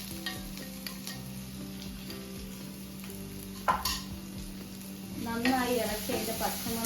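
Crushed cumin, garlic and pepper mix stirred in a hot pan, giving a steady low sizzle with soft scraping stirs and a brief clatter, growing a little louder near the end.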